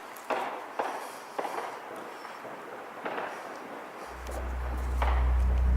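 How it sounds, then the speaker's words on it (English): Several sharp gunshot cracks sound at irregular intervals, fairly distant and echoing inside an abandoned building, followed by a low rumble that swells toward the end. "even hearing gunshots when exploring one of the more open areas"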